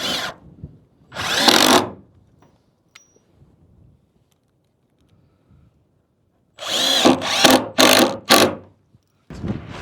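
A power drill drives hemi screws in short whirring bursts: two brief runs, a long pause, then a tight cluster of four quick pulses and a final short burst, loud and close.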